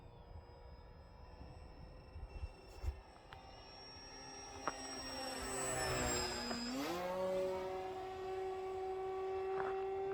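A 3D printed RC Sportster-style plane with a 35mm motor on a 4S battery runs at full throttle, its steady high-pitched electric whine climbing sharply in pitch midway and then holding loud and close.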